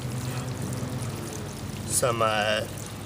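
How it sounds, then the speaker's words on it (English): Nutrient-enriched water carrying magnesium, copper, zinc and iron pours onto garden soil in an urban garden bed, a soft continuous splashing trickle with a brief louder gurgle near the end. "The water that I'm pouring onto here is not just straight water."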